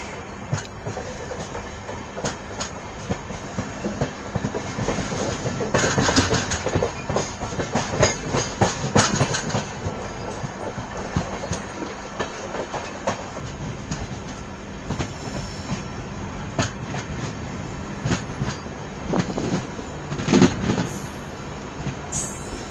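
Train pulling into Hasimara station amid tea garden country, steady rumble of rolling wagons with rhythmic wheel clatter and occasional brake squeal, continuous and moderately loud, no talking.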